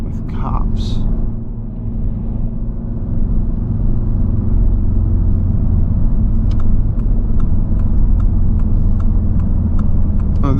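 A 2019 Audi TT S engine hums in a deep, steady rumble from inside the cabin while driving on a road, with a person talking over it.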